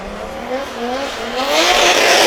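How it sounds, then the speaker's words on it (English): An M50 turbo BMW E36 drift car launches off the line for a Pro qualifying run at a British Drift Championship round in Birmingham. The engine is loud and close, its pitch climbing through the gears, and a hissing roar of tyre smoke and squeal builds toward the end. "He comes off the line for his first qualifying run in the Pro class."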